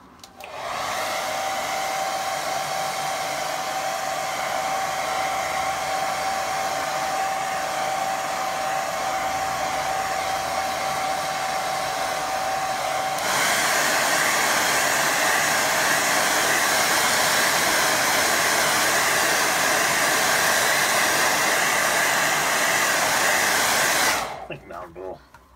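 A hair dryer blows continuously and loudly for about 24 seconds to dry a watercolour painting, with a shift partway through to a brighter, stronger airflow before it switches off.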